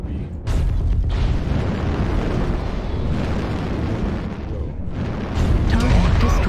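A target mech destroyed in MechWarrior Online, heavy explosive booming and rumbling that holds loud and close throughout, with a fresh burst near the end.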